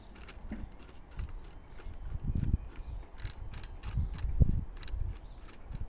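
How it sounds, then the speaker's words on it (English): Upper pole being screwed into a Fisher Gemini 3 metal detector, giving close, soft metallic ratcheting and scraping clicks in irregular bursts, alone without talk. "you put this upper pole and screw it in here and here"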